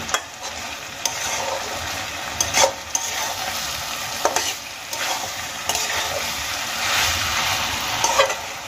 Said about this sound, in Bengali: খুব ভালো করে আমি বেগুনগুলোকে মিশিয়ে নিয়েছি।